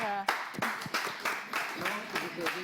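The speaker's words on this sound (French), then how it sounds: "Est-ce qu'on peut juste applaudir" An audience claps for a doctor at a live French comedy show, a brief scattering of hand claps heard under ongoing talk.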